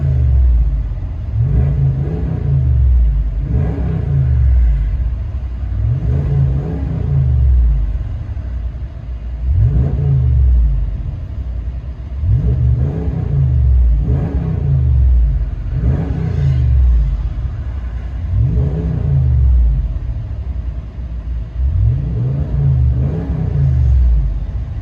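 A Ram 3500 Power Wagon's 6.4-liter Hemi V8 revs repeatedly in a steady cycle, deep rumbling aftermarket exhaust rising and falling about every four seconds, loud and close.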